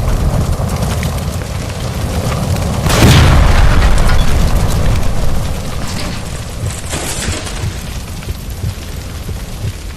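A gas line explodes in the L.A. Noire video game as a heavy boom bursts through a dense, noisy game soundscape, swelling briefly before settling back into a steady rumble.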